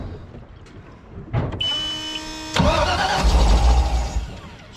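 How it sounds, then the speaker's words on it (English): A Ski Centurion boat engine cranking and catching, then running with a drive belt spinning and slipping, giving a sustained whine over a loud rumbling engine close by, no talking. "It's just spinning the belt."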